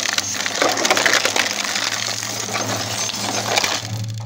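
A Precious Plastic Shredder PRO in Iraq, restarting after reversing out of a jam, grinds and crunches plastic with a steady low mechanical hum, dense crackling and snapping over a loud continuous motor drone.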